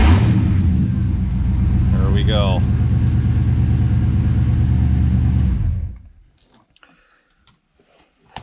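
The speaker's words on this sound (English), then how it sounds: "let's see if the car still starts" A 1991 Ford Mustang Foxbody engine cranks and runs in a steady idling rumble with a few clicks, then cuts off abruptly near the end, leaving quiet with faint ticks; someone speaks briefly over the engine.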